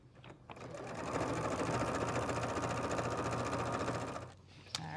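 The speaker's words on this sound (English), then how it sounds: "All right, so now we'll sew this." A sewing machine runs steadily, stitching a hem on heavy duck cloth for a blanket, with a continuous close, even whirr of rapid needle strokes that starts, holds for about three seconds and stops, with no talk over it.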